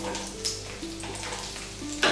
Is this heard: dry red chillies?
yes